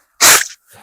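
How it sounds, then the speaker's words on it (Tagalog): A single sharp, loud human sneeze close to the microphone, a burst of breath and voice followed by a faint exhale. "Bahing lang muna ako mga masters"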